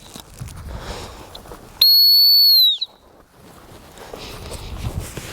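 A single sharp, high stop whistle blown during gun dog puppy training, about one second long and loud, ending with a slight downward bend, set against quiet outdoor wind and rustle.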